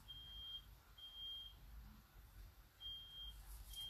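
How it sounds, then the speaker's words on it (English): A smoke alarm set off by cooking eggs beeps repeatedly, sounding high, thin tones in an even rhythm. It is faint and distant in an otherwise quiet room. "that's why you can hear the fire alarm going off"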